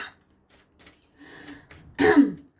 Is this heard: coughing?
yes